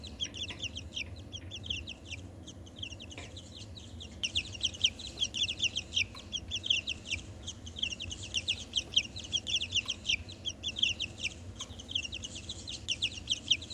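Baby chicks kept at home in a cage, peeping in a busy flurry of high, quick chirps that overlap throughout and grow denser midway, close by over a low background rumble.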